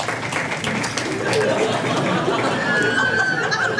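Audience applause at a stand-up comedy show, a brief burst of clapping with scattered chatter and light laughter mixed in.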